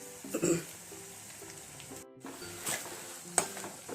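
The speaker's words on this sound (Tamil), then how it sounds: "வெங்காயம் பூண்டு நல்லா வதங்கிருச்சு. இப்போ அரைச்சி வச்சிருக்க பவுடர் ஆட் பண்ணிக்கலாம்." Onion and garlic sautéing in a pan with ground pepper-cumin powder for pepper-cumin rice, a soft sizzle with occasional stirring scrapes and light utensil knocks, close and fairly quiet.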